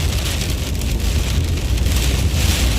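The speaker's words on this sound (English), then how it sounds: "See all this rain, these rain curtains moving in front of us here." Steady, close rain from an Oklahoma storm pours down as a dense, even hiss, with a faint rush of wind over the microphone and no talk.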